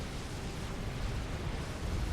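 A commander unit explodes in the strategy game Forged Alliance Forever: a continuous deep, rumbling blast with heavy low-end roar that holds steady for a couple of seconds, with no voices over it.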